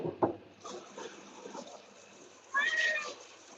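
A ragdoll cat meows twice indoors, a short sharp cry near the start and a longer, louder drawn-out meow near the end, with a quiet room between.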